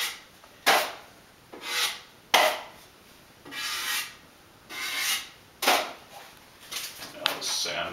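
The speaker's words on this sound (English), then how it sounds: "I'll just sand the rest of that" Drywall is hand-sanded in a house under construction, heard as a series of rough, rhythmic rasping strokes, each rising and fading, roughly one stroke per second with short pauses between.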